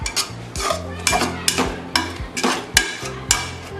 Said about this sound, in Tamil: அதை நல்லா மசிச்சு விட்டுக்கலாம்.